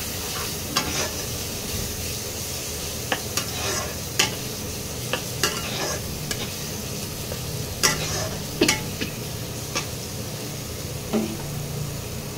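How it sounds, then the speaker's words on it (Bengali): Spice masala with Kashmiri chilli powder stir-fried in a pan for a banana flower dopiaza, a low continuous sizzle with sharp spatula scrapes and taps at irregular intervals, close and with no voices. "এবারে মশলাটাকে ভালো করে কষিয়ে নিতে হবে।"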